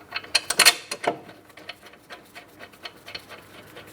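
A ratchet starting and snugging two 18mm mounting bolts at the front wheel bearing and hub of a 2003–2007 Cadillac CTS: quick, close clicking pawl strokes, loud at first, then lighter and steadier.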